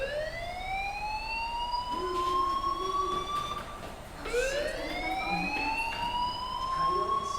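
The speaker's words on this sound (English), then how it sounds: "Hey, do you hear that fire alarm?" A fire alarm in the video game Life is Strange blares as a loud electronic siren, two rising wails that sweep upward and hold, the second starting after a brief dip midway, over a low background murmur.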